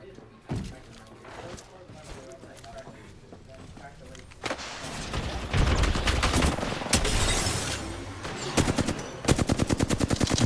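Rapid automatic gunfire and single shots from the battle royale video game Apex Legends, with bursts building in density toward the end, heard under an esports caster's commentary.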